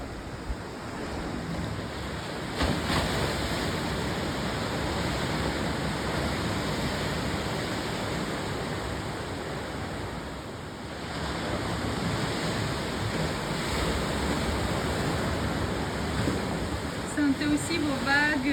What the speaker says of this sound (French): Je vais vous laisser bercer par les vagues.